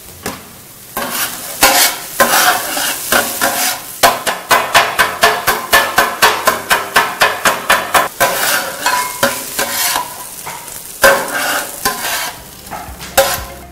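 Idiyappam is fried in a pan and chopped with a spatula, giving a rapid run of sharp metallic clacks over a steady sizzle. The clacks come in fast, even bursts and then slow to scattered strikes.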